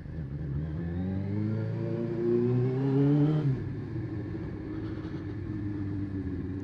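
A Suzuki GSXR 600 Srad motorcycle with a noisy aftermarket exhaust revs loudly up to a peak and then drops back, its engine note rising and falling close by with no talking.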